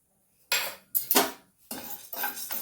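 Sabudana (sago) being dry-roasted in a pan, stirred with a metal spoon that makes several scraping, clinking strokes in a loose rhythm, close and clear, with no voices.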